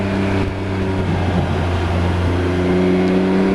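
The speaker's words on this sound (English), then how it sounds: "you can throttle it out of there and just, you know, feed the throttle as soon as you go through" A Can-Am Ryker three-wheeler pulling hard on the throttle on a winding road: a steady, loud engine drone with strong tonal harmonics, held evenly throughout and heard close, with no talking.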